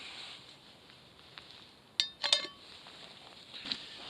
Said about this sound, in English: Just going to put the lid back on.